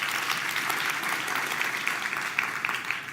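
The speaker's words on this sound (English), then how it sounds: "Please, a warm round of applause." Audience applause at the M-PESA Foundation Academy citizens of the future launch event, a steady dense wash of many hands clapping throughout, fairly close and continuous with no talk over it.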